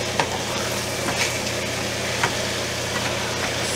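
Pork chops sizzle steadily in a pan just after being flipped, a continuous close frying hiss broken by a few faint clicks, with a low background hum and no talking.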